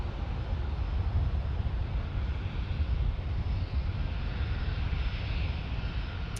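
A Southwest Airlines Boeing 737-700 departs at night in San Diego, its engines a broad, steady jet roar rumbling at moderate distance, continuous throughout with no voices.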